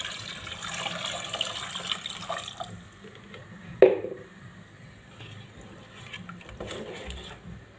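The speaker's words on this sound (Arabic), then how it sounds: "نضيف الماء السخون نتاعي هكا" Hot water is poured into a couscous pot, a soft trickle and splash in the first few seconds, followed by a clear clunk and quieter intermittent drips and handling noises.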